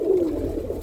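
Roller pigeons coo in a loft, a single low, throaty rolling coo close by, trailing off softly with no talk over it.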